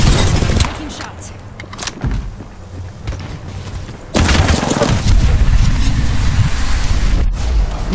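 Incoming gunfire in a shooter video game, heard as dense, loud booming bursts and crackling shots over a constant battle din, growing heavier in the second half.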